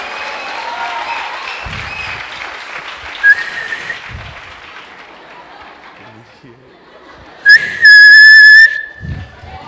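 A church congregation applauds and cheers under a preacher's speech, with sharp whistles rising briefly and then a longer, louder burst of whistling and clapping near the end.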